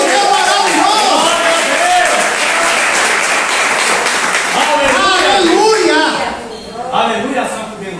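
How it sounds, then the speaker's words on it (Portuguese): Church congregation applauding during a worship service, a dense steady wash of clapping and crowd noise for about six seconds with voices mixed in, then thinning out near the end. "Você pode aplaudir ao nosso Deus maravilhoso."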